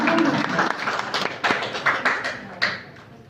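An audience at a women's Qur'an recitation competition applauds a prize winner, the clapping starting fuller and thinning into scattered individual claps that fade out over a few seconds.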